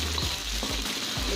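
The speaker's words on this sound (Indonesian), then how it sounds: "nggak perlu menumis terlalu lama ya, soalnya tadi oncomnya sudah kita goreng" Fried oncom and fried spices sautéing in a pan for a traditional Sundanese ulukutek leunca dish, a steady close sizzle broken by three soft stirring scrapes, with no talking.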